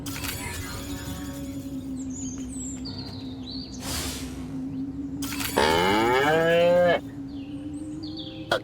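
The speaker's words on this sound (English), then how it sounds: "Again with the moo?" Cattle mooing in the alien-invasion video game Destroy All Humans!: a long, loud, drawn-out harmonic moo rising over a steady ambient game drone, with fainter animal calls earlier.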